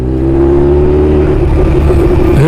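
Motorcycle engine droning loud and close on a Ladakh road trip as the rider leans the bike left, a steady low hum that rises in pitch near the end, with no talking.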